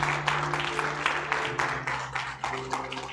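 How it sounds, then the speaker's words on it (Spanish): A church congregation claps in a short burst of applause over a held organ or keyboard note, with a voice briefly heard over the clapping. "Démosle un fuerte aplauso al Señor."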